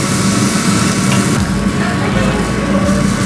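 Kobe beef grilling in Japan gives a steady, close sizzle and crackle of fat over heat, with low rumbling background noise throughout.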